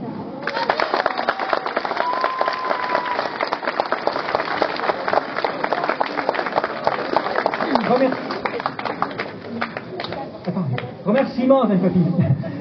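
An audience at an evening event applauds the volunteers with sustained, dense clapping from many hands, with voices and cheers mixed in and rising toward the end.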